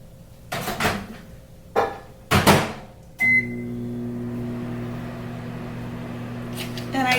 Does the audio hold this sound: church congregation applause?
no